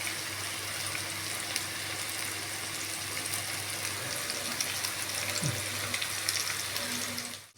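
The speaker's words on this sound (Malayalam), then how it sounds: "ഓയിൽ നന്നായി ചൂടുമ്പോൾ നമ്മൾ ആ മുക്കി വെച്ച ചിക്കൻ ഇതിലേക്ക് ഇടുക" Marinated chicken pieces frying in hot oil give a steady, close sizzle that holds at an even level throughout, with a faint low hum underneath and a few small bubbling pops toward the end.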